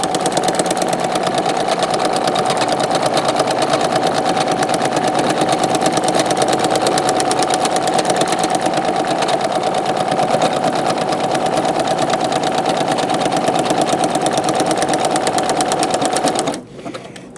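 Singer Quantum Stylist 9960 sewing machine stitching an automatic one-step buttonhole, a loud, fast, continuous mechanical whir held evenly close by, cutting off abruptly at the end.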